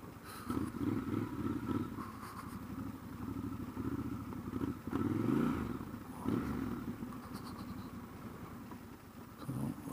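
Triumph Scrambler 1200 motorcycle ridden through mud on an off-road trail, its engine running steadily with rough low rumble, small rises in revs and clattering from the bike and terrain, close and continuous throughout.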